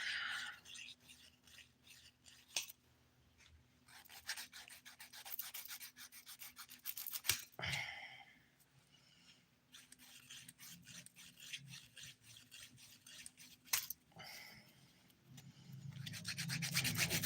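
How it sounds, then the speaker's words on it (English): A worn nail file, flipped to its coarse 100 grit side, rasps against fingernails in quiet repeated strokes, close and fairly soft, with a few brief pauses between passes and no talk. "I was using the 180 grit side, but I'm flipping it to 100. This file's pretty worn"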